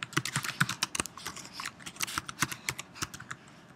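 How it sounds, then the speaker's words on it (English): Rapid irregular clicking of keys on a computer keyboard as someone types text into a presentation slide, close and fairly quiet, with no talking. "we can begin typing"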